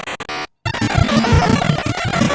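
An instrumental track from the game Undertale plays sped up at a mismatched Nightcore tempo, a loud, dense, clashing wall of music that cuts out briefly near the start before resuming without any talk.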